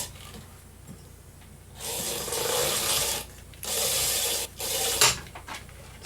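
A wood lathe spins a pepper tree winged bowl at 600 RPM while a tool scrapes the wood, giving loud rasping bursts of rough cutting separated by short quieter gaps over a low motor hum.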